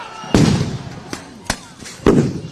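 Several sharp, loud flashbang detonations burst one after another in a protest crowd at a police-taped intersection in Minnesota, each bang followed by a short echoing rumble, with crowd noise between them.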